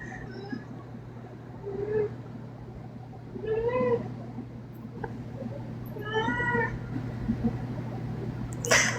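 A cat meows several times at close range, in short, rising calls spaced a second or two apart over a steady low hum.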